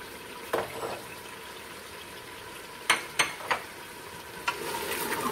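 Oil sizzles steadily in a pot while cooking haleem, a spoon scraping and clattering against it a few times, close by.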